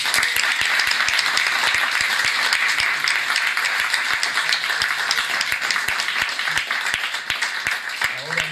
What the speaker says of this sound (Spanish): todos le damos un aplauso gigante a María